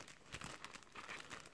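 A plastic bag crinkles and rustles close up in quick irregular crackles, faint and without talk.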